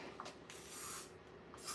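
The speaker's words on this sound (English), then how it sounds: "So I'm going to spray into this lid." Spray paint sprayed into a lid, several short close hissing bursts of aerosol separated by brief pauses, faint and without talk.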